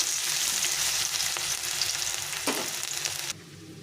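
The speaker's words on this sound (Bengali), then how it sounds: "দিয়ে দেবো এক মুঠো রসুন কুচি আর দেবো দুটো পেঁয়াজ দিচ্ছি দিয়ে এটাকে ভালো করে একটু ভেজে নেব" A handful of chopped garlic and two onions hiss and crackle in a hot pan, a close, steady sizzle with light stirring that drops off sharply near the end, with no one speaking.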